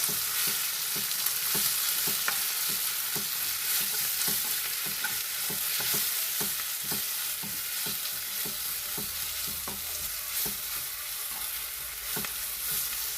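Lemon pickle with dates, salt and chili is stirred in a hot pan, a steady sizzle with regular scraping strokes of the spoon repeating throughout, close and continuous with no voices.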